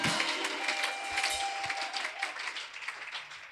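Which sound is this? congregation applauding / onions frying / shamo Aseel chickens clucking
congregation applauding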